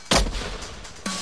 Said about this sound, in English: And finally, a staggering 1 million rounds per minute.